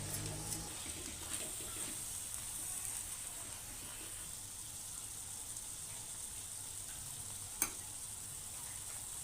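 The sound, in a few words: peanut powder stirred into sizzling safflower greens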